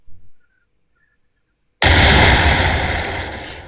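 A short blip, then near silence, followed by a sudden loud explosive blast from a tank game sound effect that roars and slowly decays with a crackling tail.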